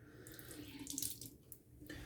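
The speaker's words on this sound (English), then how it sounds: "Go ahead and empty out the majority of this water here." Water being poured out of a shaving bowl after lathering with a badger brush, a steady close splashing gush that swells and briefly thins, heard alone.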